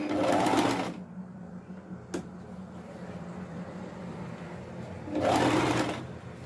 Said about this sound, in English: So as you can see, I finished sewing.